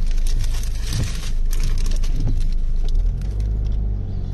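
Steady low engine rumble and road noise inside a moving car, with occasional light rattles and knocks, loud and continuous without talk.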